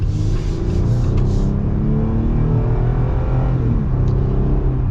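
A 2025 Jeep Gladiator Mojave X pickup accelerates, its engine droning steadily as the pitch climbs, heard loud and close from inside the cab with no talking.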